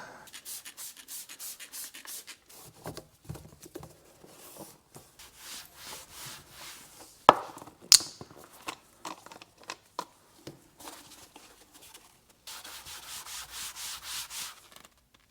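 A kitchen sponge soaked in 93% denatured alcohol scrubs a coated BMW center console in repeated short rubbing strokes, close and dry-sounding, with a couple of sharp knocks partway through.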